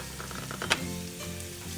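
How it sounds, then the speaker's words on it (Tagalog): Garlic and lemongrass browning in a pan for a chicken stir fry give a steady, close sizzle with a brief louder crackle burst partway through, no talking. "Hayaan nating mag-brown-brown din silang dalawa dyan. Yung garlic at saka lemongrass."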